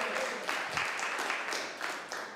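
Audience applause breaks out at a city council meeting in Santa Rosa, a steady wash of many hands clapping at moderate distance, filling the room for a couple of seconds.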